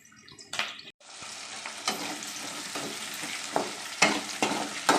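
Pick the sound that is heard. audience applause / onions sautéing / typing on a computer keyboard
onions sautéing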